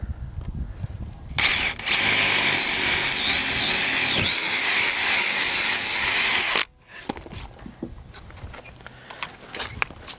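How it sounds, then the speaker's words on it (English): A power drill fitted with a 9/16 bit bores holes for anchor bolts while a mud sill is installed in a shop build. It gives a loud, steady whining roar for about five seconds, then stops abruptly, leaving quiet handling noises. "This is a 9/16 drill bit."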